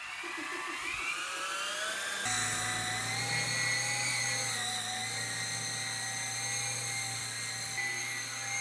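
A small 20-year-old RC model helicopter whines steadily at high pitch as its rotor spins up, then holds a loud, continuous buzzing drone while it hovers close by.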